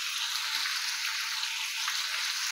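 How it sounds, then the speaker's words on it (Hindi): Whole spices including red chilli powder roasting in a hot pan for a methi tadka dish, giving a steady, close, moderately loud broadband sizzle with no pauses and no talk. "सब मसालों की अच्छी तरह से हम भुनाई करेंगे।"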